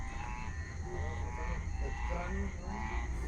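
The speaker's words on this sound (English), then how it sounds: "it sounds like frogs, like a bullfrog" Frogs croak continuously, the calls deep like a bullfrog's, from a damp cemetery after recent rain, with a dense, steady chorus filling the scene.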